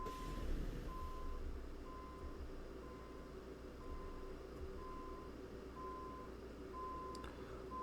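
Truck reversing alarm in Euro Truck Simulator 2, a steady series of evenly spaced single beeps, about one per second, sounding over a low idling engine rumble, fairly quiet and without talk.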